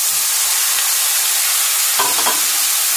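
Tomatoes and peppers sizzle loudly in a hot frying pan as they go in, a steady bright hiss with brief stirring scrapes and a short burst of added crackle near the end.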